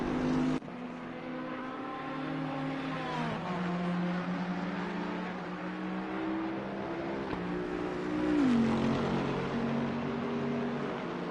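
A GT3 race car in a PS4 racing game at Brands Hatch: a loud, sustained engine drone that holds high revs, then drops sharply through gear changes and climbs again, steady and close throughout with no voices.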